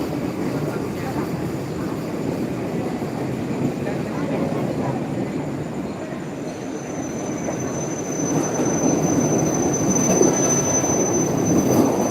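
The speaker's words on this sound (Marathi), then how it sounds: "ट्रेन लागली आहे डहाणू" A train at Dahanu rumbles steadily and loudly close by, a continuous mechanical roar with a thin high whine joining in the second half.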